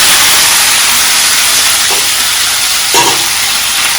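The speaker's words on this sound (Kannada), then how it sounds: "ಈಗ ನಾವು ಪಾಲಕ್ ಪನ್ನೀರ್ಗೆ ತುಪ್ಪ ಹಾಕಿರೋದು." Ghee hissing and sizzling in a hot pan while palak paneer is cooked, a loud, steady, close frying hiss with a couple of brief, sharper bursts near the end.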